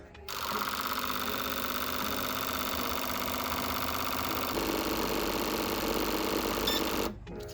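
Injector flow tester and cleaner running a set of Supra fuel injectors, a rapid mechanical buzzing chatter like a sewing machine, steady and close, starting abruptly and stopping near the end.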